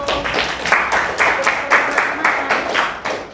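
Students in a classroom give a short round of applause, a handful of loud, rhythmic claps in a regular beat, fairly close, with faint voices underneath.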